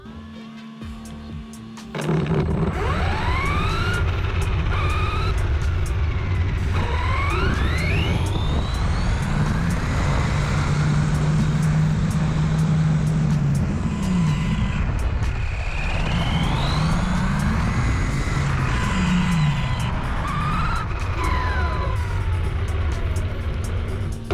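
An RC truck on Pro-Line Trencher HP 2.8-inch belted tires starts after a brief pause, then its electric motor whines loudly and continuously, the pitch sweeping up and down repeatedly as it speeds and slows.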